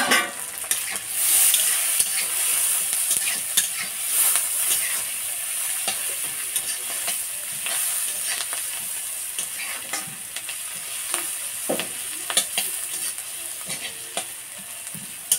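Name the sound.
onions frying in oil in a pan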